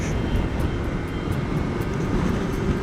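A Hero XPulse motorcycle's engine runs steadily on a ride toward a dam, a loud continuous low drone with rushing wind noise and no speech over it.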